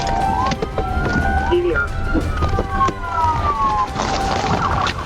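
A police car siren wails during a rainy high-speed chase, its rising and falling tones sweeping over rain noise and engine rumble, loud and close throughout.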